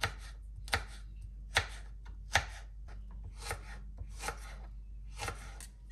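Garlic and chili pepper are chopped with a knife on a board, producing spaced, crisp chops mixed with softer scraping strokes, close up and alone without speech.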